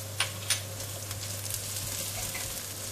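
Garlic frying in a pan alongside half a red onion, a steady soft sizzle with a couple of sharp clicks near the start and a constant low hum beneath.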